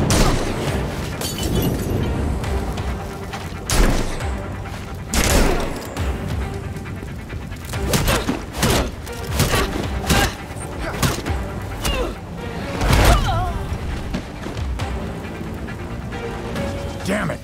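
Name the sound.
fireworks and explosions in the video game Gotham Knights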